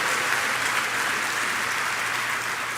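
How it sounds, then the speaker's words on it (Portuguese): A church congregation claps loudly and steadily, a dense wash of applause that fills the room without pause. "Pode dar salva de palmas mais alto em nome de Jesus."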